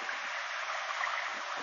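Steady rushing of a river pouring over rocks near Glens Falls, New York, an even, close wash of water noise with faint gurgles and no voices.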